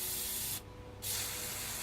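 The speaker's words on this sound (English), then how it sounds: "turn your can upside down and spray" A Plasti Dip spray can, held upside down, hisses in a loud continuous bright spray that cuts off for about half a second and then resumes just as strongly.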